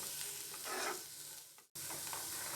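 French beans and carrots sautéing in a pan over a low gas flame, a steady close sizzle with a couple of stirring swells and a brief cut of silence partway through.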